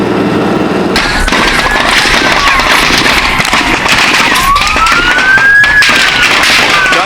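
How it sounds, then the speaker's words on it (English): A barrage of gunfire between Stockton police and robbers in a 2014 hostage shootout: loud, dense cracks and pops wash together with wailing police sirens rising and falling throughout. "The suspects and Stockton police exchange a barrage of bullets."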